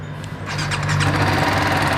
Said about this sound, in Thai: จะฟังเสียงท่อคันนี้กันหน่อย